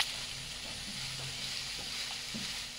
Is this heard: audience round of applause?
no